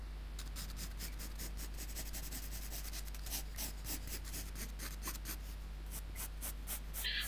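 A pencil sketches a tattoo design on paper, a close, quiet run of rapid scratchy strokes repeating in quick rhythm over a low steady hum, with no voice.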